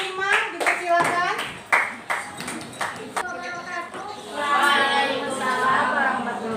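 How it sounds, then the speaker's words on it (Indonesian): A group of students in a school science class claps, in short bursts of fairly close clapping, with voices talking over and around it. "Kita berikan aplaus"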